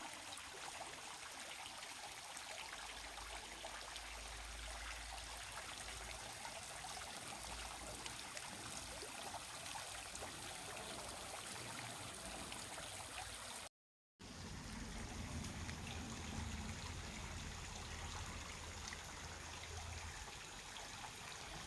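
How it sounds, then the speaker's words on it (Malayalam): A small garden waterfall babbles and trickles continuously, a faint, even wash of water with one brief dropout near the middle. "ഈ വെള്ളച്ചാട്ടത്തിൻ്റെ കളകള ശബ്ദവും"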